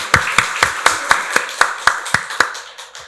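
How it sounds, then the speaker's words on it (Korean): A church congregation at a Sunday worship service claps in unison, about a dozen crisp, evenly spaced claps in a quick steady rhythm with no talking. "박수로 하나님께 영광 돌리겠습니다"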